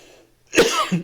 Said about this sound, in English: Didn't mean to cough there.